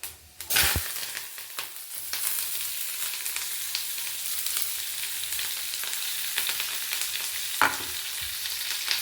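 Onions, chillies and curry leaves hit hot oil with popped mustard seeds for a bitter gourd stir-fry, opening with a sharp clatter and then settling into a close, continuous sizzle with occasional stirring scrapes.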